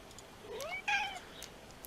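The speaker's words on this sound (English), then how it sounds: "forgive the cat who seems to want to participate in today's video" A house cat lets out a short meow, rising then a clearer two-part call, close and fairly quiet against a faint hum with no voices.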